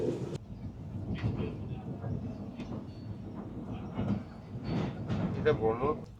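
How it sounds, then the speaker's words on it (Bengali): The Saraighat Express rolls into Kamakhya Junction station with a continuous rumble of wheels and carriages and some clattering and brief squeals, heard from inside the train as voices talk over it. "ট্রেন আমাদের ঢুকছে কামাখ্যা জংশন স্টেশনে"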